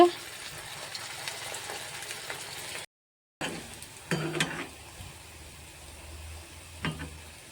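Gulab jamun balls fry one by one in gently heated oil. A soft, quiet sizzle is broken by a brief dropout and a few light clinks of utensils.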